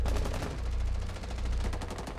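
Rapid automatic gunfire crackles through a Rainbow Six Siege match, dense overlapping shots in fast bursts that keep up loudly for the full stretch, with no talking.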